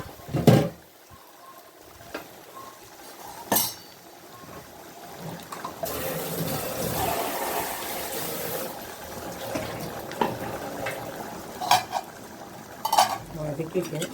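Boneless chicken hits hot oil for a gongura chicken fry, bringing a burst of sizzling in the middle, framed by quieter stretches with occasional clinks of a utensil against the pan.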